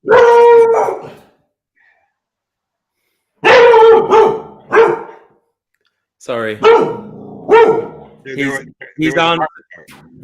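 A dog barks loudly in several close bursts while jumping up at a window, answering another dog's barking outside, with long silent gaps between the bursts and a voice speaking briefly.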